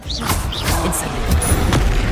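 Incendio fire spell cast in Hogwarts Legacy, a loud whooshing burst with booming rumble and bright magical shimmer, continuous over its brief length with no speech.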